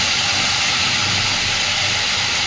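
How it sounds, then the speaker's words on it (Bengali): Fried potato and taro pieces stirred into hot masala in a pan, heard as a loud, continuous, even sizzling hiss close by with no voices. "এইবার ভেজে রাখা আলু আর গাঠি কচু এর মধ্যে দিয়ে দেবো"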